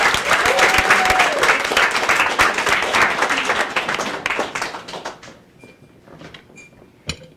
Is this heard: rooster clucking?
no